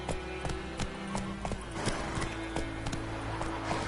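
Hooves of Roach, the horse in The Witcher 3 video game, galloping in a quick, steady clip-clop rhythm. The beats are loud and close, with game ambience underneath.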